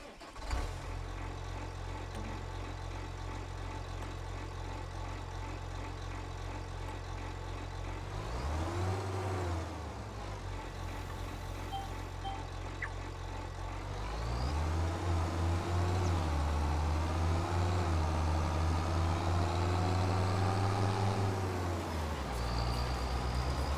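A tractor engine in Farming Simulator 25 starts up and keeps running, a steady mid-pitched drone that dips, revs up and settles into a louder, heavier idle, with no talk over it.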